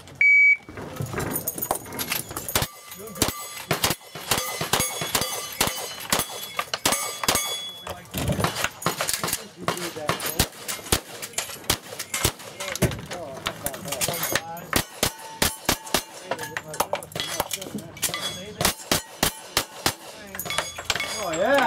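A cowboy action shooting stage: rapid strings of sharp, loud gunshots fire almost continuously, with metallic ringing and short gaps as guns change, close and dense from start to finish.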